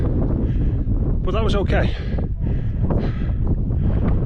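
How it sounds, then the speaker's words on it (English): Strong wind roars across the microphone on top of Ascent Stickle in the Lake District's Langdale Pikes, a loud continuous buffeting rush that nearly buries a hiker's speech. "It's windy here, you won't be able to hear me"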